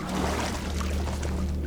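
River water in the video game Ogres 2 Platform: a continuous loud rushing, pouring water sound, dense and unbroken, with no voice.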